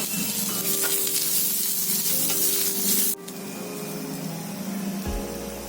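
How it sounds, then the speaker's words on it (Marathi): Chopped onion fries in a pan with ginger and garlic for a Malvani chana usal, giving a loud, close, steady sizzle that drops a little partway through and ends with a soft clunk, with no voices. "आता आपण त्यामध्ये कांदा घालूया, तोही चांगला लाल करून घ्यायचा आहे आपल्याला।"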